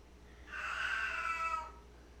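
A very old cat, 19 years of age, gives one drawn-out, wavering meow, close and fairly faint, over a low steady hum in a kitchen.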